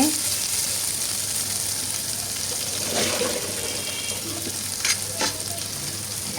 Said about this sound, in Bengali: পরিমাণ মতো লবণ দিয়ে আর একটু ভেজে নিচ্ছি